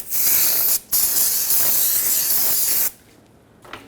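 Aerosol brake cleaner sprays hard onto the front brake parts of a Ford F350 Super Duty truck in long continuous hissing bursts, with a brief pause near the start before the spray cuts off into quiet.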